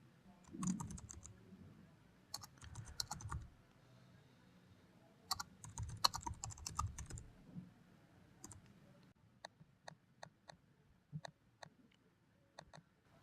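Text is typed into a web contact form on a computer keyboard, sounding as bursts of quick, close key clicks separated by short pauses, then slower, scattered single taps toward the end.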